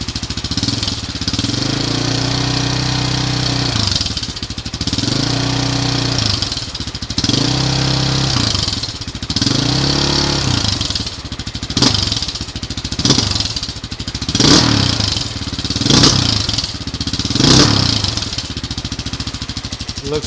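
A Honda XR600R motorcycle with an aftermarket muffler and a suspected jetting issue idles, then revs repeatedly in sharp throttle blips, loud and close, with no talk.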